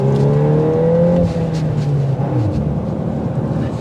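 A 2024 Volkswagen Golf R accelerates, its engine note climbing in pitch and then dropping at a gear change before settling into a steady roar. Loud and close, with no voices.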